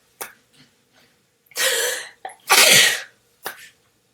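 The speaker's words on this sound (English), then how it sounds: "I'm going to sneeze." A single loud, close sneeze with a sharp wind-up breath, followed by smaller sniffs and breaths, in a quiet indoor room.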